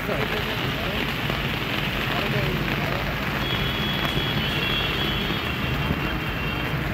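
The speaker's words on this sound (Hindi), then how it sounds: "अरे स्लो हो गई बारिश।" Steady rain falls outdoors amid strong winds, a dense, continuous hiss and patter that fills the whole stretch evenly with no clear break.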